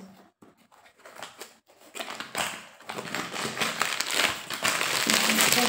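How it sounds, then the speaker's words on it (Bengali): The plastic packaging cover around a UV-protection umbrella is pulled open and crinkles near the listener. A few soft rustles come first, then louder, steady crackling that keeps building toward the end. "তো আমি আগে কভারটা খুলছি, দেখা যাক কেমন দিয়েছে।"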